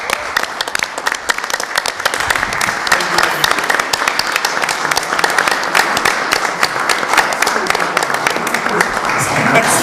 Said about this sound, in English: So I would like to at least give you a round of applause myself